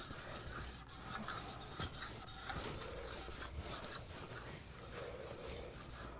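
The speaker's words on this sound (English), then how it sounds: "I have all my pressure on the side of the trowel away from me and rub it pretty vigorously" A steel trowel is rubbed hard and continuously over Venetian plaster on a wall, giving a steady, close, rasping scrape that holds its level throughout without speech.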